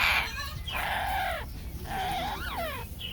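A yellow-naped Amazon parrot lets out loud, harsh, raptor-like screeches and squawks, several rising and falling calls in quick succession, close and alone with no talk.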